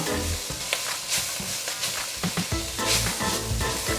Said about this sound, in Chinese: 大家要持續的翻炒，讓這個梅乾菜的香味一直被炒出來